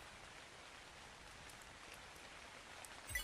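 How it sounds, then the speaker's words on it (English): Rain falls across a video game map as a soft, even hiss of pattering drops, faint and continuous, with a slight low rumble near the end and no speech. "It rains a lot on this map"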